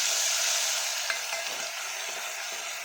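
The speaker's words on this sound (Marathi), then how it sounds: "लसूण टाकलं त्याला हलवून द्यायचं आणि त्याला करपायची भीती असते" Garlic stirred and frying in a pan for a Maharashtrian chana dal varan, a steady, close, bright sizzle with small scrapes of the spoon now and then, no voices.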